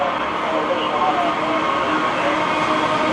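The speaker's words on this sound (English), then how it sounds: "they decided to stop the train here to watch it roll by" A Norfolk Southern grain train rolls steadily past nearby, its cars giving a continuous loud rumble and rattle with no breaks, and a voice speaks faintly under the noise.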